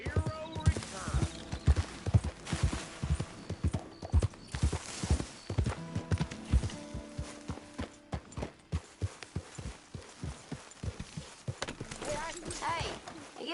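Horse hooves clip-clop in a steady walking rhythm in Red Dead Redemption 2, close and distinct, with people talking quietly underneath.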